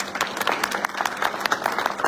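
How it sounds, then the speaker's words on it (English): Ceremony guests applaud at a military change of responsibility event, a steady patter of many hands clapping at moderate distance for about two seconds with some crowd murmur underneath. "Please join me in a round of applause for all of our guests."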